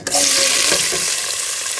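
Vegetables and sliced meat stir-fried in hot butter and oil, sizzling loudly and close, with a few spatula scrapes and tosses early on as the hiss gradually settles.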